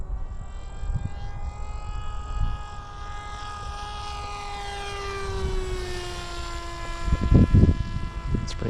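An RC Giant Wing 1200mm electric plane on a 4S battery flies overhead, its motor a steady whine that sweeps downward in pitch as it passes, with a brief burst of wind or handling noise near the end.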